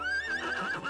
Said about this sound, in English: Ah, this is gonna be a troublesome horse.